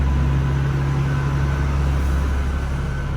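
Steady, heavy whir of the fan on a Nissan R34 Skyline turbo sedan with an RB25DET engine swap, idling in a cold enclosed space, with a constant low drone and broadband rush throughout and no talking.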